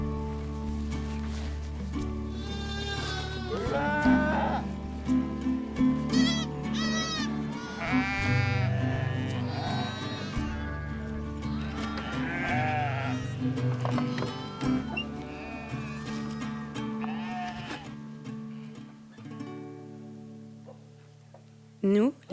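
Several goats bleating repeatedly at a nomad herding camp on the steppe, wavering calls near and far over a sustained low drone, with a voice speaking across much of it.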